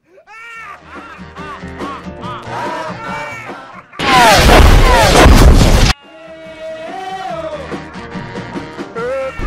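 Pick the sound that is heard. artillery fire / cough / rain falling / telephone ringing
artillery fire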